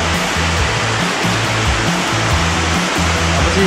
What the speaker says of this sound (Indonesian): Tapi begitu nyampe di trek, hujannya lebat bener nih.